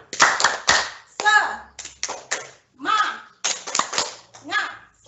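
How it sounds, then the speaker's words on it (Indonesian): A primary school teacher leads a rhythmic 'tepuk semangat' clapping chant, with sharp bursts of hand claps in a patterned sequence mixed with her chanting voice, close and clear. "Kita sama-sama tepuk semangat."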